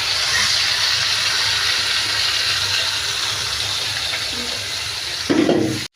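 Marinated beef sizzles in hot oil in a wok, a loud, steady hiss that fills the whole stretch up close, ending with a brief clatter.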